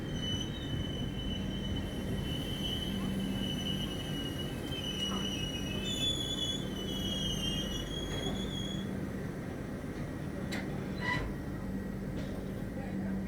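The 12621 Tamil Nadu Express runs on rails, with a steady low rumble of wheels and carriages and thin, high wheel squeals drifting in and out over the whole stretch.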